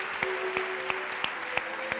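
Applause for award winners at the 2016 European Heritage Awards ceremony in Madrid: a steady wash of clapping from a seated audience, with regular sharper claps every third of a second and a faint sustained tone underneath.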